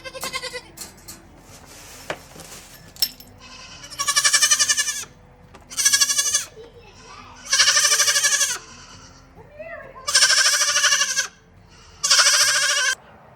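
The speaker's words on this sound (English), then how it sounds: "we are the proud owners of 3 new baby goats" Three baby goats bleat in a string of loud, wavering cries close by, about six calls spaced a second or two apart with quieter farmyard rustle between them.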